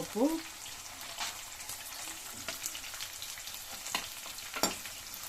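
Onions frying in plenty of oil for chicken gravy, a continuous close sizzle broken by a few sharp spoon scrapes and knocks against the pan.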